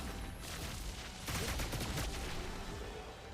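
Verso fires a follow-up gunshot in Clair Obscur: Expedition 33, heard as a quiet, dense burst of gunfire-like cracks that rises briefly and then settles into a low, steady rumble.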